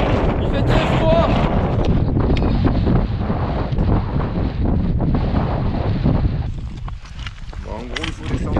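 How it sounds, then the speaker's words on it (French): Strong wind on a cold morning in Andorra roars steadily across the microphone, with heavy buffeting that barely eases for the whole stretch. "Il y a vraiment beaucoup de vent ce matin."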